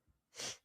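A single short sneeze, faint and somewhat distant, with a soft breath just before it, in a quiet indoor setting.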